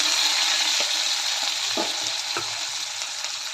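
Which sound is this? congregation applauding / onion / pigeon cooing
onion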